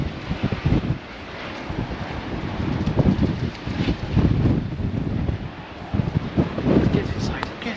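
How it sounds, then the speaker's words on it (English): Strong wind in Iceland, during a storm, buffets the microphone in loud, rumbling gusts, with faint voices partly buried underneath. "It would be a lovely view if it wasn't so windy."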